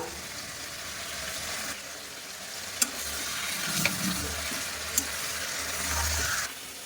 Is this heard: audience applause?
no